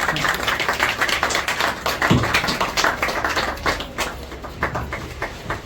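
An audience at a student award ceremony claps loudly for a guest presenting medals and prizes, a busy, continuous spatter of many hands with some sharper individual claps standing out.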